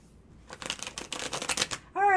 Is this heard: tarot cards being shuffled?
yes